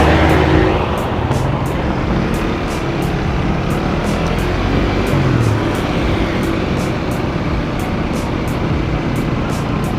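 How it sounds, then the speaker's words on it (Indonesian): Cars speeding past on a road, heard as a loud, constant broadband roar of traffic with no separate passes standing out and no talking. "Gila, di sini mobilnya kenceng-kenceng coy."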